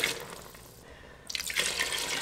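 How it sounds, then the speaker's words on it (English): Water, about a liter or two, poured into a pot for vegan chicken-style soup, a steady rushing splash that thins briefly and then surges again, close and alone. "I'm gonna put in a ton of water now."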